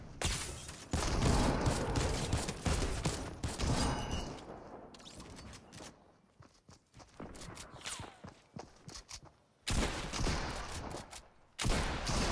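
Bursts of rapid gunfire crackle through a dense Fortnite soundscape, with loud volleys, brief lulls and scattered sharp shots.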